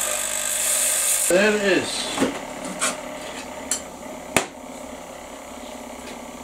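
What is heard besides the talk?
taking rough edges off metal with a tool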